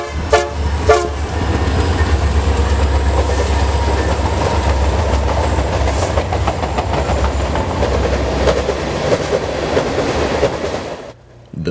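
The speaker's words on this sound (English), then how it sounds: "Here, we see 554 and an SD60M duo pulling a local freight that originated in Eddyville, Iowa." Santa Fe B40-8W locomotive 554 paired with an SD60M hauls a local freight from Eddyville, Iowa, toward Burlington, giving two short horn blasts at the start over a steady, loud rumble of engines and rolling wagons.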